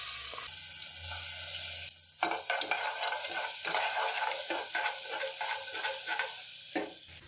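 Boneless beef fries with cloves, black pepper, star anise and ginger-garlic paste, giving a steady close sizzle broken by repeated scraping stirs and a few clanks from the spoon, with no talking.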